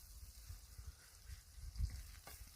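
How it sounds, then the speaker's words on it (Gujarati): Onions and tomatoes fry in a pan for a green chickpea curry, a soft, steady sizzle close by with faint stirring bumps and no voices over it. "ડુંગળી ટામેટા બધું શેકાવા આવ્યું છે"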